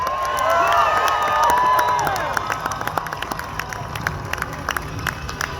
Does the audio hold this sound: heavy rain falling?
no